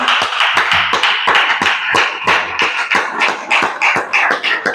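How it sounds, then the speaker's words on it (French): Church congregation clapping an acclamation, loud, dense claps in a lively rhythm throughout, with no talk over them. "Si nous pouvons donner une acclamation au Seigneur."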